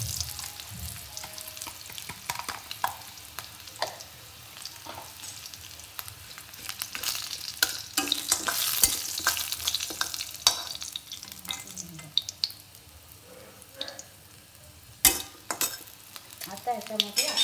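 Pan of peas, soybean and potato vegetable frying with asafoetida, giving an ongoing sizzle with scraping stirs and clinks of a utensil against the pan, close up, with no talk.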